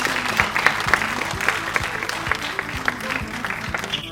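Loud applause from an award show audience at a film awards ceremony, steady dense clapping throughout with a few sharper individual claps standing out, and a low musical hum underneath.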